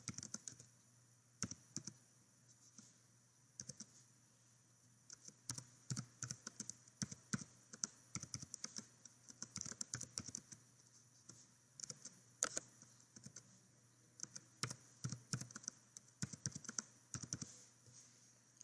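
Someone types on a computer keyboard while filling in an online sign-up form. Irregular bursts of soft keystroke clicks with short pauses sound close and quiet, with no talking.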